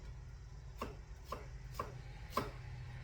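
A knife slices through an onion for a Hungarian dish, four crisp evenly spaced cuts landing against a board over a low steady hum, close and moderately loud.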